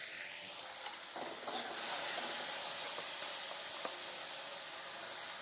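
Green chillies and salt fry in a pan of oil for a village-style small fish curry with taro, giving a continuous close sizzle and hiss with a few light stirring scrapes and no talk.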